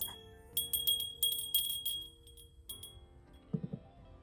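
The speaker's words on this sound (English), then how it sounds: "And then I'm adding this cute bell that was my mom's." A small decorative bell being set on a living-room shelf during Christmas decorating gives a run of bright metallic tinkles and clinks, close and fairly clear, followed by a few soft knocks as it settles.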